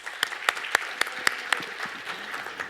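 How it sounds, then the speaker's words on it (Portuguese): Sparse applause at a sales talk, a few distinct sharp claps in a steady rhythm at first that thin out into scattered softer clapping, fairly close in a quiet room. "Uma salva de palmas para ele"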